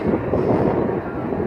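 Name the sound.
passing train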